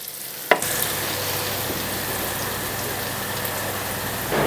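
Kesme aşı noodle pieces cooking in a soup pot for a traditional Anatolian noodle soup, a steady close bubbling and sizzling hiss after a brief clatter at the start.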